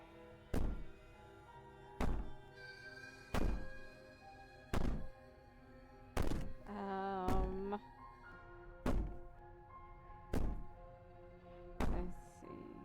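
Heavy banging repeats at a steady pace, about one dull thud every second and a half, with a brief wavering wail rising midway through.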